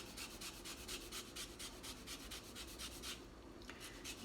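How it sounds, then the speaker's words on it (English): An organic lime is zested on a grater, giving quiet, rhythmic rasping strokes in quick succession, close up and with no voices. "Try to get as much zest in as possible from 1 lime."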